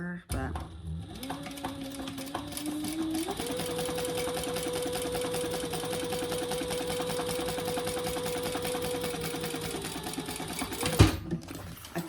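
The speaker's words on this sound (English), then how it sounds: "So we're going to stitch across that." Sewing machine stitching across a leather wallet, a steady rapid mechanical chatter that ramps up and holds at speed for several seconds before stopping with a clunk, loud and close.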